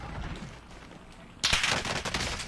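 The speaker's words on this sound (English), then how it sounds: "I'm getting shot from freaking" Burst of rapid gunfire in a video game shooter, sudden and loud after a quieter stretch, with dense repeated shots continuing to the end.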